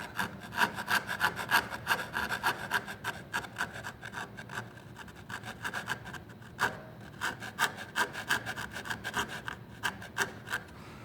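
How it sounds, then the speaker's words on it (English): A rasp filing a wooden baseboard on the downstroke, repeated rhythmic rough scraping strokes, close and steady, with brief pauses between bursts. "If I pull upward with pressure on my rasp, it'll splinter up on the top edge"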